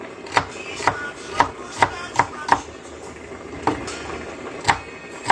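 A knife chops celery into bite-sized pieces on a cutting board for home-cooked chicken soup, with about ten sharp, close, evenly spaced thunks and a brief pause midway, no talking.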